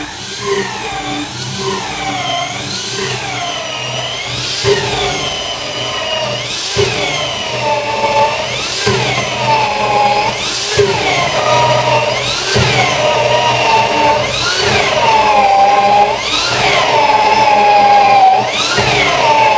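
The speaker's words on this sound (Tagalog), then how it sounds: "Parang sasakyan." A medium car engine revs repeatedly, rising in a series of roughly evenly spaced climbing surges that grow louder and higher over about twenty seconds.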